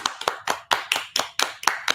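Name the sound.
hand clapping applause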